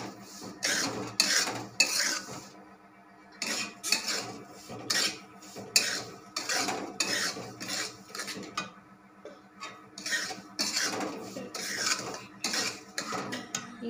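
Suji halwa being stirred in a pan, with a spoon scraping and clinking against the metal in steady repeated strokes, close and fairly loud, with no talking.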